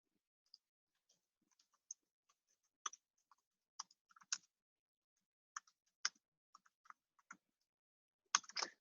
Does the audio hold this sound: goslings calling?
no